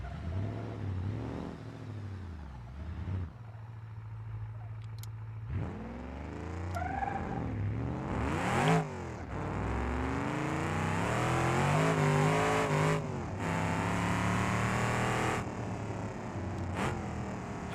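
Race car engine in BeamNG.drive revving hard through repeated rises and drops as the car drifts, loud and close, with shifting pitch sweeps and no talking.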